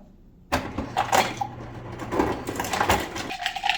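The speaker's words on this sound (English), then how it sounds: "Go back to the ice machine." Ice clattering out of a home fridge's ice machine dispenser, a sudden burst of loud rattling cubes and clinks that runs a few seconds before the mechanism hum continues alone.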